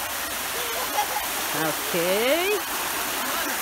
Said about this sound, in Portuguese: A gente está aqui na Cachoeira de Ivete Sangalo.